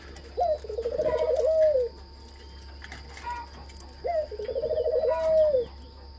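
Yellow-toned pet doves coo twice in clear, rolling, bubbling phrases about three seconds apart, close and distinct over a steady low hum.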